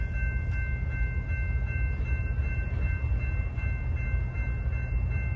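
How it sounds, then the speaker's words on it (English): A BNSF locomotive light power move rolling past at Brunswick, a loud continuous rumble of the engine with steady tonal whine and wheel noise, close by and without any voices. "There's a BNSF engine, like a light power move that went by."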